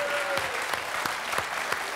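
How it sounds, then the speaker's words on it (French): Quiz show set with steady applause heard, the clapping a continuous wash punctuated by a few sharper individual claps at a regular rhythm, moderately distant and fairly quiet. "Moi, je vous applaudis."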